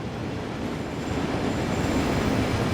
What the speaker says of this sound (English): I can hear a train.